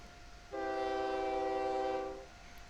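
A train in the OpenTTD video game sounds a single sustained horn blast lasting under two seconds, clear and tonal over a quiet background, then fading out.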